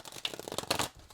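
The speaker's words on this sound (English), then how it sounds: "I'm going to give them a quick shuffle" A deck of playing cards being given a quick shuffle at a tabletop, a short riffling crackle of bursts lasting about a second, close and fairly quiet.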